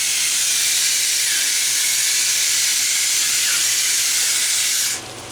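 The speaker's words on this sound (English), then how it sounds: "This meat still needs a little bit while to cook. We'll just let it simmer here." Steak simmers and sizzles in a pan with salt and pepper, a steady loud hiss that runs without a break and then cuts off sharply near the end.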